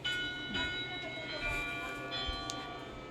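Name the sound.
bell ringing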